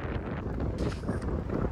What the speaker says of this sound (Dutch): dit is een stuk waar flink wind staat